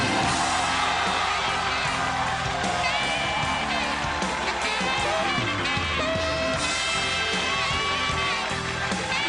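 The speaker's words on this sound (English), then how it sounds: "The crowd goes crazy" A television studio audience roars with sustained cheering, whoops and shouts as comedian Norm Macdonald walks out on a talk show, a loud, dense crowd noise that fills the whole stretch without letting up.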